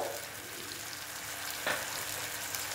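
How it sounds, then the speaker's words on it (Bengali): Ground spices and grated ginger frying in a pan for soya chunk kofta curry give a steady, close sizzle throughout, with one brief stirring scrape. "আমার তো মশলা মোটামুটি কষানো হয়েই গেছে।"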